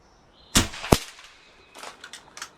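An airgun fired on a 190-bar fill gives one sharp, loud close crack followed quickly by a second impact-like snap, then fainter scattered clicks and rustles; no one speaks.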